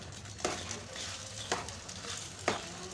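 Aloe vera halwa being stirred in a pan, three distinct scrapes of the spoon spaced about a second apart over a low steady cooking hiss, close and fairly quiet.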